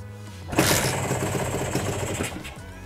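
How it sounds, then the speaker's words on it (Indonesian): A Kawasaki Ninja R 150 motorcycle engine cranks and fires, then settles into a steady, buzzing idle that runs on evenly, close and alone. "kita nyalakan aja mesinnya"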